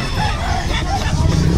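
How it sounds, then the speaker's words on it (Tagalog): Chickens and a rooster kept as livestock at a backyard farm alongside turkeys, with a loud crow rising over steady clucking and rustling, heard close and continuous throughout. "Pero ngayon mga manok ang nakapwesto kay Kuya Oli"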